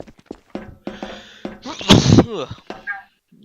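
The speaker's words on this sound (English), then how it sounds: "I had to turn my head and sneeze more than once." A single loud, explosive sneeze up close, preceded by short breathy sounds and followed by a brief voiced sound.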